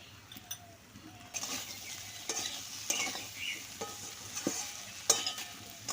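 Vegetables for shukto are stirred with poppy seed paste, spices and salt in a pan, a spoon scraping in uneven strokes over a soft background sizzle, fairly quiet and close.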